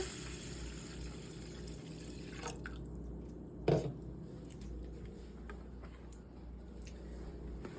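Water poured into a cooking pot with lentils, a soft steady trickle and drip with one brief louder splash near the middle, close by and alone.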